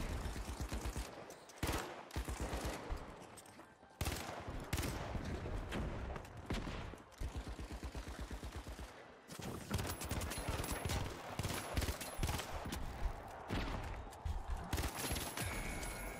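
Rapid automated turret fire in The Finals video game, with dense, sustained streams of gunshots cutting in and out in bursts, fairly near and loud, with brief pauses between volleys.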